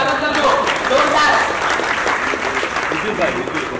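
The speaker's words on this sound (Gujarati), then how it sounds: "રાહુલભાઈ નું જોરદાર તાળીઓ થી સ્વાગત કરજો" Audience applause at a press conference for a Gujarati film in Ghatkopar, a dense burst of clapping under an amplified voice, loud and sustained.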